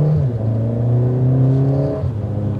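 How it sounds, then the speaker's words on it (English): A 2022 Mercedes-AMG GLA45 performance SUV revs hard for a couple of seconds, its engine and exhaust note rising loud and close in a steady, droning climb before easing off. "And you get a nice exhaust note when you do it."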